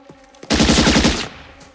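M16 rifles firing on full auto in a war movie: a loud, close burst of rapid evenly spaced shots lasting under a second, with a short echoing tail.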